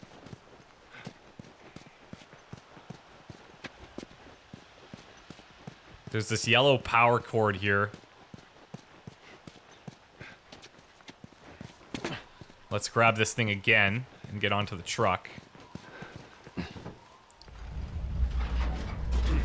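Horse hooves clip-clop on the ground in The Last of Us video game, a steady walking rhythm running beneath someone talking throughout.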